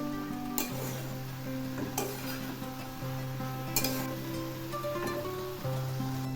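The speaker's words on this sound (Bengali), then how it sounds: "শাকগুলো আবার একটু নেড়ে দিচ্ছি।" Mustard greens fry in a pan with a constant sizzle, while sharp stirring scrapes and clinks come a few times, set against steady tonal background sounds.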